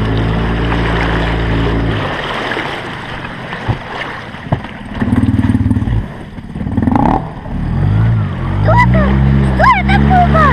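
Motor of a small boat on a village fishing trip, a low droning engine running steadily at first, then choppier as people talk over it and a voice rises near the end.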